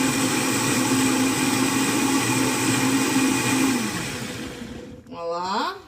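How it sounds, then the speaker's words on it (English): A Vitamix blender purees beans until smooth, its motor roaring loud and steady before winding down, followed by a few seconds of speech. "I'm going to blend this up till smooth in the Vitamix."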